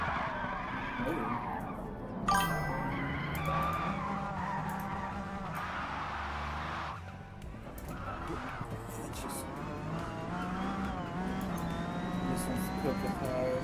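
In Forza Motorsport, a race car's tires spin and skid with a sustained squeal over a revving engine, close and steady, the squeal shifting in pitch, while a person talks over the driving.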